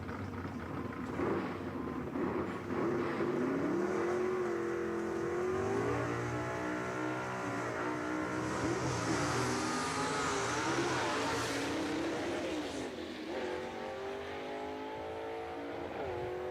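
Gasser drag race cars at Jackson Dragway, including a 1956 Chevy, roar loudly and steadily with revving engine tones that rise and shift throughout, with no talk over them.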